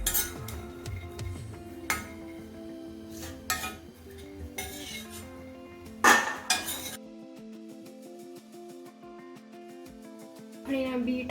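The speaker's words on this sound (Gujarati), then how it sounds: "આપણા મગફળીના બી શેકાઈને રેડી થઈ ગયા છે, તો આપણે હવે એને પ્લેટમાં કાઢી લઈશું" Roasted peanuts scraped from a kadai onto a plate with a metal spoon, a run of sharp clinks and scrapes at close range with brief gaps, followed by a few more clatters; a voice talks over it.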